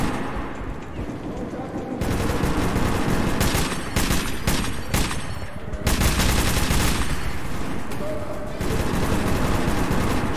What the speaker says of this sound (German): Schieße ich gerade auf die richtigen?